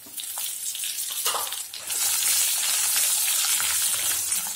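Dried red chilies and curry leaves fry in hot oil with roasted peanuts for pulikachal, making a steady bright crackling sizzle that swells louder partway through and continues to the end.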